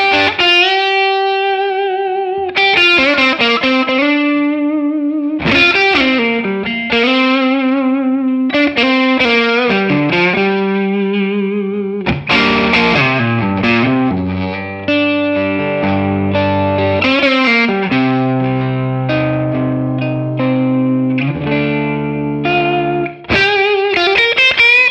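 A distorted electric guitar through an overdrive pedal, neck pickup with reverb, plays sustained chords and melodic runs, thick and saturated with a touch of ambience, loud and continuous throughout.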